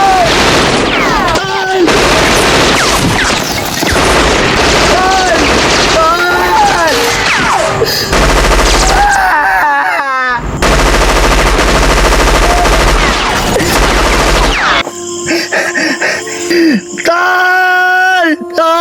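Bursts of gunfire from a gun ring out amid a chaotic, loud scene, with shouting and pained voices crying over the shots throughout.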